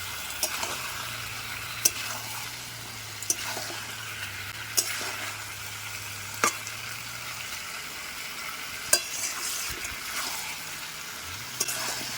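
Chicken masala sautéing in a pan, a low steady sizzle with regular sharp clanks of a spoon striking the pan every second or two, plus a faint low hum through much of it.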